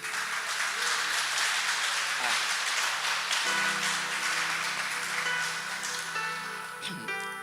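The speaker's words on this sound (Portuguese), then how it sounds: "Você pode aplaudir Jesus?" A church congregation applauding during a live service, a dense, sustained wash of clapping that stays loud and even, with a voice briefly rising over it near the end.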